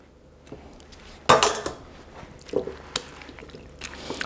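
Potatoes tumble into a mixing bowl of ranch potato salad mix, giving a sharp clattering thud followed by softer scattered clinks and moist shuffles, close and fairly quiet with no talking.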